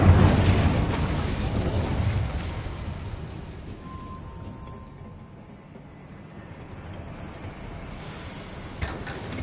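A fiery Incendio spell blast in Hogwarts Legacy hits with a loud whooshing burst at the start, then a crackling roar that fades to a low rumble, with a sharp pop near the end.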